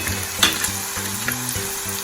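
Crushed garlic cloves sizzling in hot oil in a pan while a vegetable dish is cooked, a steady close frying hiss with light stirring and a few soft pops.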